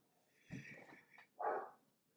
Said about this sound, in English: Oh, listen to him barking now.